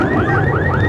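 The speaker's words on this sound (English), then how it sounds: "Burglar alarms were set off." Burglar alarms wail on San Francisco streets after the 1989 earthquake, a loud warbling siren that sweeps up and down in repeating cycles over a constant rumble of street noise.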